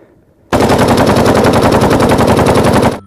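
Rapid sustained burst of AK-47 automatic fire in the Jurassic World Evolution 2 video game, loud and close, starting abruptly after a quiet moment and running evenly for about two and a half seconds.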